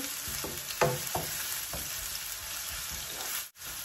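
Medium onion frying in a little oil in a home kitchen pan, a steady sizzle with a few stirring scrapes and knocks early on, close and moderately loud.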